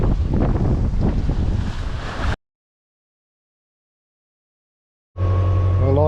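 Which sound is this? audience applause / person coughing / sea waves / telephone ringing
sea waves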